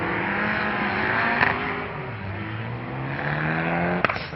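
Rally car at the Jack Frost Rally, its engine climbing and falling through gear changes as it drives on a wintry stage, loud and close with continuous engine noise throughout.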